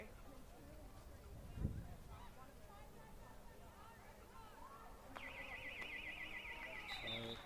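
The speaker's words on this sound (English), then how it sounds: "There's the buzzer for the end of the third quarter" Faint crowd murmur and voices give way to a warbling electronic buzzer-like tone ending the third quarter of a grand final, sounding near the end, over ongoing background chatter.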